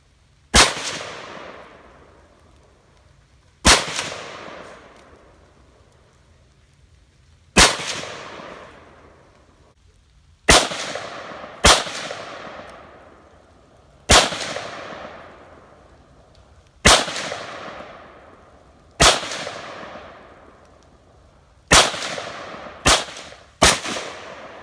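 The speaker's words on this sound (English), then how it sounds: "we finished up some shooting here" Rifle fire from an AK-47 and an SKS outdoors, about a dozen single loud cracks, each ringing out in a long echo, spaced irregularly with a few quick pairs.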